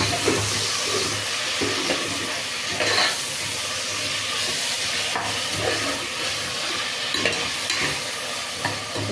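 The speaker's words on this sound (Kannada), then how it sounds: "ಟೊಮೊಟೊನ ಸೇರಿಸ್ಕೊಂಡು ಅದು ಸಾಫ್ಟ್ ಆಗೋವರೆಗೂ ಫ್ರೈ ಮಾಡ್ತೀನಿ" Chopped tomatoes frying in a pan for a vegetable palav, with a steady close sizzle and hiss broken by occasional stirring scrapes.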